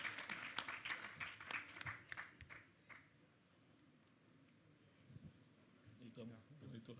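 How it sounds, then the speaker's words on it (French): An audience at a business forum in Abidjan claps in a burst of applause that fades out after a few seconds, followed by quieter room sound and talk. "sur vos applaudissements, s'il vous plaît."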